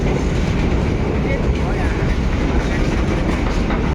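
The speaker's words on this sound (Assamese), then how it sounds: "ধেমালি লাম্বা নহয় গাইছ ট্ৰেইনখন" A long train rolls past a railway crossing close by, a loud, steady rumble and wheel rattle filling all four seconds without a break.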